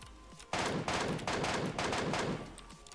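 A gun in the mobile game PUBG Mobile fires a rapid burst of about seven sharp, evenly spaced shots, loud and close, then stops.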